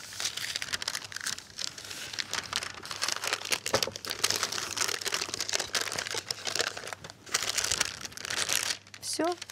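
Baking paper crinkles and rustles loudly and continuously as it is crumpled and pulled away from rolled-out pie dough, close by, with a person talking over the sound.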